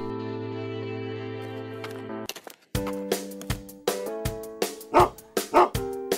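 A cartoon dog in a Playmobil animation barks and yips in a quick series of short, close, loud yelps after a sustained tonal passage, with no talk over it.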